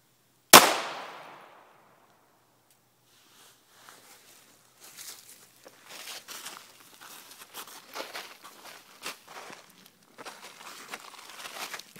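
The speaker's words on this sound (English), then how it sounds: "Hornady's 45 grain FTX Critical Defense 22 Magnum, 6-inch AMT Automag 2. We're going to shoot into a pork shoulder" A single sharp gunshot from a 6-inch AMT Automag 2 .22 Magnum pistol firing a Hornady 45 grain FTX Critical Defense round into a pork shoulder, loud and close with a quick fading ring, followed by quiet rustling and handling noises.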